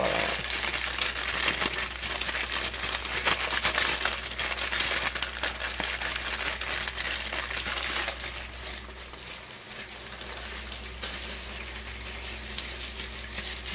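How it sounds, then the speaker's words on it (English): Seasonings shaken inside a sealed plastic bag while making chicken and dumplings: a dense, continuous crinkling and rustling of plastic with gritty rattling, steady and close, easing slightly near the end. "And I'm going to seal the bag and shake it all around."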